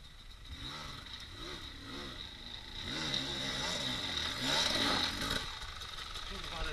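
An enduro motorcycle's engine rises and falls as the throttle opens, a buzzing rev heard among trees in the woods, with people talking over it.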